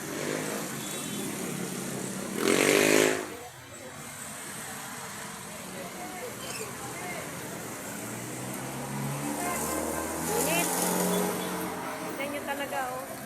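A motorized tricycle rumbles along a city street with its engine swelling as it passes, amid steady traffic noise and someone talking over it.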